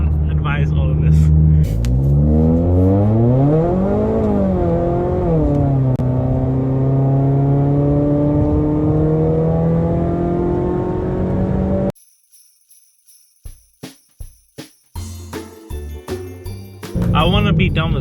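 A tuned big-turbo Ford EcoBoost car accelerates hard at high speed, its engine note climbing steadily through the gears for a long stretch before giving way to a few sharp clicks and quieter ticking.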